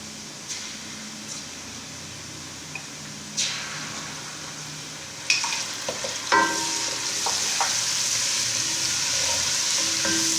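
Soft sizzling of garlic ginger paste frying with onions in a pan grows louder partway through, with scattered stirring clinks and scrapes over a steady frying hiss.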